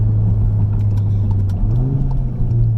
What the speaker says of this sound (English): Ooh, that downshift though, they're rev match